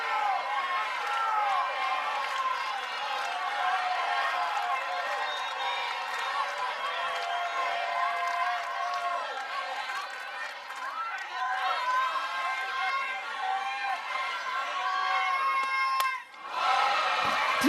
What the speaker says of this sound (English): Did you hear the collective exhale from this crowd? Gasp of the home fans.